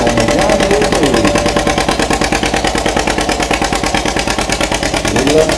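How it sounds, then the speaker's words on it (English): 1949 John Deere B tractor running at a tractor pull, a loud, steady rhythmic two-cylinder putt-putt thumping throughout, with outdoor crowd noise around it. "Deere B right here. Sounds good."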